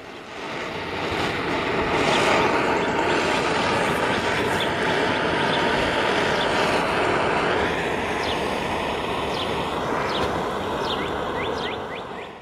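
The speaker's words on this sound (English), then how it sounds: "Seen here is the ignition of the third and final gasifier design." A homemade gasifier with a vertical syngas pipe and custom-made burner nozzle ignites into a loud, continuous roaring rush of flame and air, steady for about ten seconds before easing off, with faint crackles on top.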